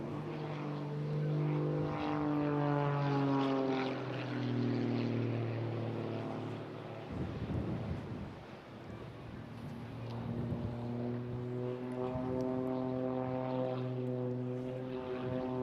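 Small light aerobatic aircraft flying a display at an airshow, its propeller engine droning loud and steady with rising and falling pitch as it maneuvers, briefly fading mid-pass before swelling back.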